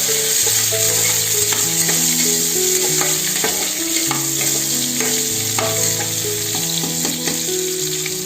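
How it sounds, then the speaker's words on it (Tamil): Chopped onions sautéing for vegetable pulao, a constant loud frying hiss with occasional stirring scrapes, under background instrumental music. "கட் பண்ணி வச்சிருக்க வெங்காயத்தை போட்டு ஒரு 2 நிமிஷம் வதக்குங்க"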